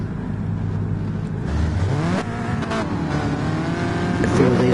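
Several race cars in a racing game roar and rev together at the start, engine pitch climbing and overlapping in steady acceleration, with a commentator speaking over the din.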